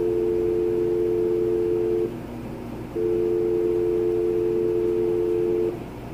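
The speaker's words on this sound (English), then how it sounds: "this is gonna be the speakerphone flashing and then redialing." A Polycom SE-220 speakerphone sounds its flash and redial tones: two long, steady electronic dial-tone bursts separated by a short gap, clean and close, with no one talking.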